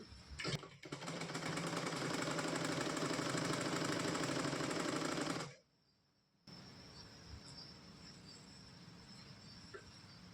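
Sewing machine stitching fabric for a hair scrunchie, a steady loud mechanical whirr running for about five seconds, then stopping abruptly, with quieter background hum after a brief pause.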